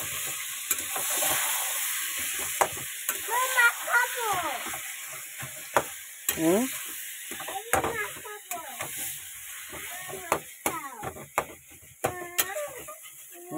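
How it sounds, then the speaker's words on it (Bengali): Taro leaves being stirred together with taro in a frying pan, the utensil scraping in repeated strokes over a steady close sizzle of frying. "এটাকে ভালো করে কচুর সাথে মেশাবো।"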